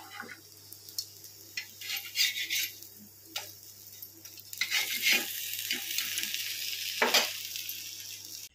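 Makhana (fox nuts) fry and get stirred in a pan, a soft sizzle under scraping and clinking strokes of a spoon against the metal, irregular and close.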